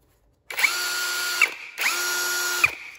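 Akuza K1 cordless drill with a 13 mm chuck whirring in two steady bursts of about one second each, close and loud, each spinning up and winding down with a short pause between.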